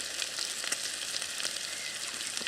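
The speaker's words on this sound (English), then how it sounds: "we're just going to fry up these leeks" Leeks fry in hot oil outdoors by the water with a steady, soft sizzle and crackle, close by and continuous, with no voices.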